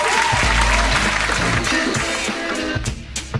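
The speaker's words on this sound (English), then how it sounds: "We got claps over there?" Audience clapping at a live barbershop event, loud and continuous with music playing underneath throughout.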